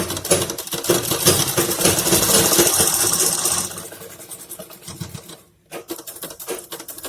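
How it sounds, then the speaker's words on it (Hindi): A sewing machine runs continuously while stitching the leg hem of a patiala salwar, a close mechanical whirring rattle that slows and stops briefly, then restarts. "इस सिलाई को सीधा सिल के निकल जाना है। दूसरे पैर में भी 6 इंच का मोहरी पे ही सिलाई को निकालेंगे।"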